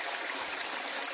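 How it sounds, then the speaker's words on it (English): A small, low-flow grotto waterfall gives a steady, close rush of splashing water that fills the short moment without any voices. "this is the Grotto waterfalls. It's not much water, but still quite pretty."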